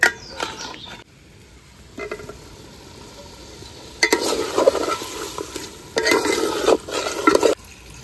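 Meat curry with fried potatoes being stirred in a cooking pot, with bursts of scraping and sizzling that come and go, louder stretches near the end separated by quieter pauses.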